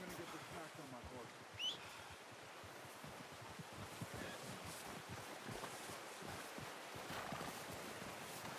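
A horse in the Red Dead Redemption 2 video game clip-clops along with soft, irregular hoof thuds, and a brief whinny rises early on, all moderately quiet under a constant outdoor ambience.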